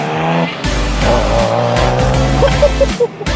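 A racing car roars through a stunt show at the 2019 Motor Show in Muang Thong, with loud revving, shifting engine pitch and squealing tires close by, surging and dipping over a few seconds.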